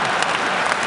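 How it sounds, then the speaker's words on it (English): An audience at a talk applauds, making dense, continuous clapping at a steady loud level with no voices over it. "Big round of applause."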